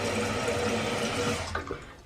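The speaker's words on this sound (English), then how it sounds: "This water is spraying into this tube, and into that tube comes out over here" Water streams steadily into a toilet cistern as it refills, a close rushing hiss that thins and breaks into a few trickling splashes near the end.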